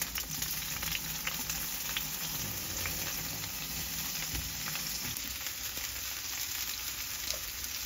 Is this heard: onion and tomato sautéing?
yes